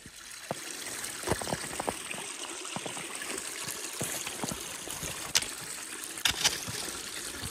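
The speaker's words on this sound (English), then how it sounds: "Streams like this were all over the terrain" A small stream trickles and burbles across open Scottish Highlands ground in winter, running continuously up close with scattered sharp splashes and clicks.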